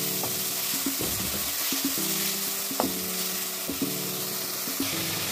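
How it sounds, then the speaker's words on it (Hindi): Small chopped onions fry in a kadhai with a steady close sizzle, broken by occasional stirring clinks and scrapes, no voices present. "सारे प्याज हमने ऐड कर दिए कढ़ाई में, छोटे छोटे चॉप करे हुए थे, तो हम पीछे इसको लाल करेंगे"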